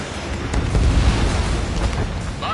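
In Ace Combat 7, a missile launch and explosion make a heavy, rumbling boom that swells and rolls for a couple of seconds, loud and close, with a faint tonal chirp at the end.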